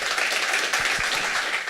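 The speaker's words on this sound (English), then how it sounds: "Please give him a warm round of applause." Applause from the audience at a Heavy Chef event on online retail in South Africa welcomes a speaker, dense and fairly loud clapping filling the brief moment with a couple of soft low thumps.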